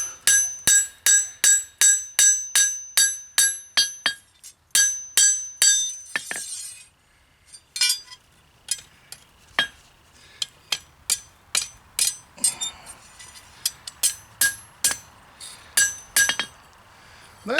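Hammer planishing a metal spoon to smooth out hammer marks, a rapid series of sharp ringing metallic strikes close up, some evenly spaced and some in quicker bursts, with short pauses between runs.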